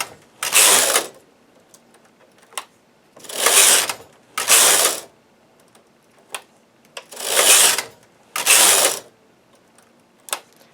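A knitting machine carriage is pushed back and forth across the needle bed, knitting rows of short-rowed hexagons. Five or six loud, rattling mechanical sweeps each last about a second, with short ticks and pauses between them and no voices.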